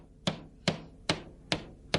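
Hardwood floor strips being nailed down during installation, five sharp, evenly spaced hammer blows about every 0.4 seconds, close and distinct against a quiet room.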